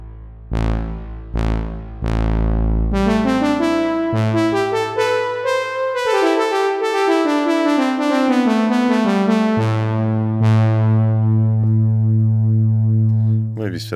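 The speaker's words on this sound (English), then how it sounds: "I'm going to just add in a little bit of reverb onto the sound" Synthesizer tone with reverb added: a few plucked notes, then a sustained rich tone that sweeps up and down in pitch over a low held drone, with a lingering reverberant tail, no voice.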